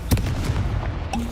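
Casting the Incendio fire spell in a Hogwarts video game produces sharp, booming bursts: one loud impact near the start, rumbling hits, then a second burst about a second later.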